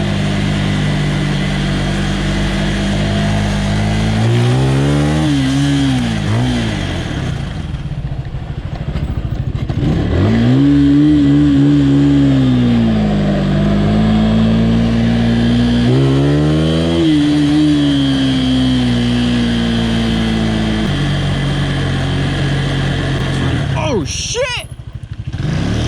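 A motorcycle on a night ride accelerates hard through first gear several times, its engine climbing in pitch with each pull and easing back between them, loud and close, with wind noise and a voice heard in places.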